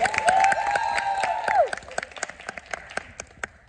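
Crowd cheering and clapping, with a sustained whistle or tonal cheer at first that drops away, leaving scattered distinct claps continuing and thinning toward the end.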